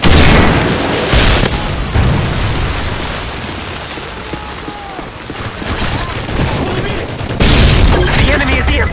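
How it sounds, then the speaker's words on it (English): A Predator missile strike in Modern Warfare 3 lands as a heavy, rumbling explosion and a blast of battlefield noise that roars on for several seconds, with scattered gunfire and a voice of game chatter mixed underneath. "Friendly Predator missile inbound."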